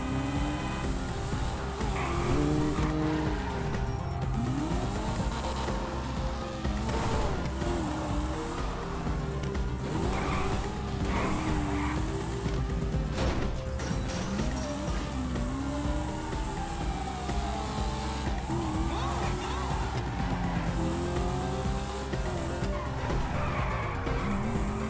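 A Dinka Jester car in a video game, driving with engine pitch rising and falling and repeated tire skids and squeals, while a siren wails and the engine drones continuously underneath.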